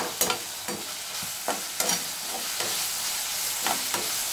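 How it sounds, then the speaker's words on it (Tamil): Tomatoes sauté with a little salt in a pan while a spatula scrapes and stirs, a steady close sizzle broken by repeated sharp stirring strokes, with no talking. "தக்காளி வந்து நல்லா பேஸ்ட் ஆகிற வரைக்கும் வதக்கிக்கலாம்."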